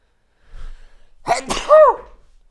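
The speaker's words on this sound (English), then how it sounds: "I'm gonna sneeze" A quick wind-up breath and then a sharp, close sneeze with a voiced tail, fairly loud against a quiet background.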